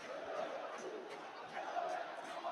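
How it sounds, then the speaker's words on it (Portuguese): Santos supporters in the stands at Vila Belmiro keep up a steady crowd chant after a home draw against CRB, a dense, continuous roar of many voices filling the stadium with no clear pauses. "Agora a torcida canta, tem que honrar a camisa do Peixão."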